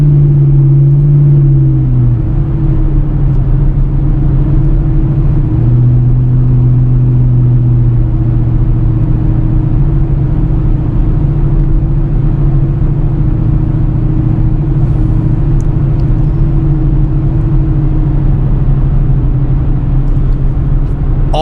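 A Pontiac G8 GT with its old exhaust setup cruises at about 45 on flat ground, a loud, steady low exhaust drone and hum that shifts pitch slightly early on and then holds evenly throughout.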